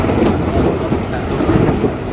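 Steady rain falls over a street demonstration, a dense continuous wash of noise with low rumbling thunder beneath it, loud and unbroken throughout with no voices.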